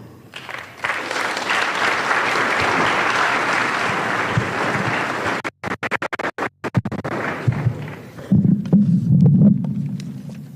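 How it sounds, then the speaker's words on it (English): A large audience claps steadily and loudly at a university career day to welcome a vice chancellor, the dense applause lasting several seconds before breaking into scattered claps and a few closer rustles and handling noises. "So we can welcome him with a hot clap."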